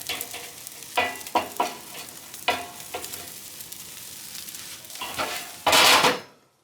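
Huli-huli chicken cooking over live fire on a drum smoker, with crackling sizzle and several sharp scraping, clattering bursts of tools against the grate, ending in one long, loud hiss before the sound stops.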